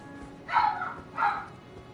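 An old dog barks twice at bedtime, two short, close, moderately loud woofs about three quarters of a second apart in a quiet indoor room.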